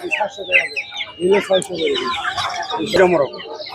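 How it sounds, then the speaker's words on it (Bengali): Hens clucking and cackling close by at the Hemayetpur poultry market, several birds at once, with people talking among them. "এদিকে দেখুন আরো মুরগি আছে সুন্দর সুন্দর মুরগি দেখতে পাচ্ছি"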